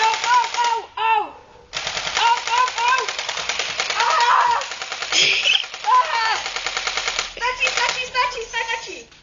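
Airsoft gun firing bursts of rapid shots outdoors, a dense continuous rattle over most of the stretch with a short pause near the start, loud and close, with a voice mixed in.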